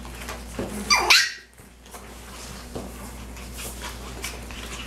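Silky terrier puppies squabble together, giving a sharp yelp or squeal near the start followed by softer whimpers and scuffling at close range.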